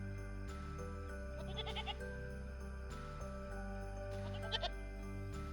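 Goats bleat in a nativity play setting, a few short, fairly faint calls over a steady background hum, with a light jingle near the end.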